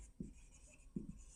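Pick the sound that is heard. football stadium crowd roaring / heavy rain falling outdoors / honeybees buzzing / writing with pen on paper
writing with pen on paper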